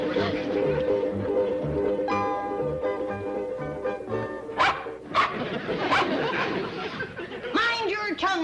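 A dog barks several times in short bursts inside a house in a 1960s sitcom scene, mixed with background music and laughter from the studio audience.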